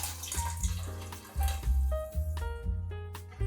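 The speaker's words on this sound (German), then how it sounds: "Reichlich kochendes Wasser hinzufügen." Boiling water poured into a cooking pot holding a pork knuckle, a close, gurgling splash with a low liquid rumble that swells and fades in several short surges.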